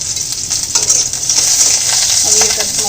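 Onion and green chillies fry in a pan with a steady, loud sizzle and hiss, broken by a few soft stirring scrapes, close up with no talking.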